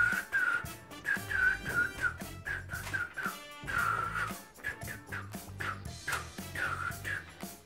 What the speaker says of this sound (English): I really cannot whistle to save my life